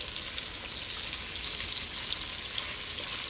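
Sausage and shrimp browning in a frying pan give a steady, close sizzle and crackle that carries on without a break, with no voices.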